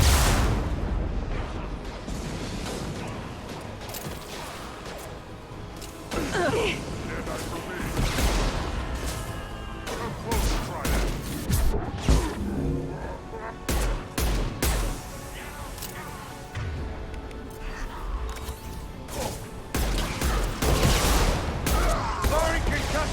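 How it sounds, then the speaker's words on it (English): Heavy automatic gunfire and explosive bursts from a Mass Effect 2 firefight, loud and dense throughout with repeated volleys and booms, while voices speak over the combat. "Heavy fire."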